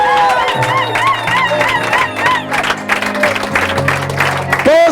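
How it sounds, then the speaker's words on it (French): A church congregation shouting and cheering for joy in praise, a loud mass of excited voices and whoops rising together, with a sustained musical tone underneath and scattered shrill cries throughout. "Pousse un cri de joie."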